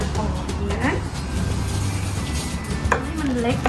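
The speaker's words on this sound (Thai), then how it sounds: "เตรียมหั่นพริกให้เล็กที่สุดหั่นกระเทียมให้เล็กที่สุด" A knife chops garlic and chili finely on a cutting board in a steady run of small taps, partly under someone speaking Thai.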